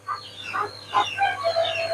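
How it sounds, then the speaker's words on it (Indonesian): Farmyard chickens kept near a tilapia biofloc fish setup cluck in short uneven bursts, fairly close and clear over a low steady hum, with no talking. "sekarang ini ada ayam juga tuh"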